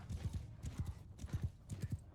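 A horse's hooves galloping in the medieval battle game Mount and Blade 2 Bannerlord, a rapid, rhythmic clip-clop of thudding beats in quick groups, fairly close.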